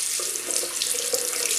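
A bathroom tap runs steadily as a safety razor loaded with a Gillette Blue blade is rinsed under it, a close, continuous splashing stream with no voices.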